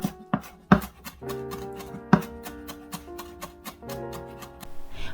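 A knife finely chopping Cheongyang chili peppers on a cutting board, a run of crisp rhythmic taps at an uneven pace, some strokes louder than others, close and without talk.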